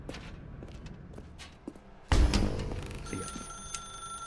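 In The Stanley Parable: Ultra Deluxe, footsteps shuffle quietly before an old-style telephone bell starts ringing loudly and keeps jangling close by.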